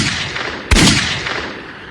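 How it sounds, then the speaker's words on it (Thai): A single sharp gunshot cracks out abruptly, loud and close, then rings and decays into a lingering noisy rumble. "เสียงปืนดังสะท้านขึ้นท่ามกลางความเงียบ"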